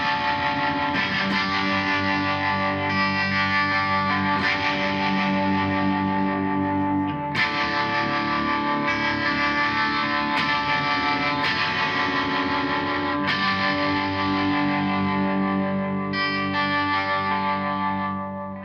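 A guitar runs through a Supro Tremolo pedal set to Harmonic Trem, boosted by a Magnification Pro Teens green-side overdrive, strummed chords ringing with a warm, wavering shimmer and crunchy gain, played solo and continuously.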